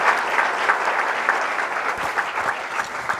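Steady audience applause at a Punjab student green card inauguration event with the Chief Minister present, a loud, dense patter of many hands clapping throughout with slight swells.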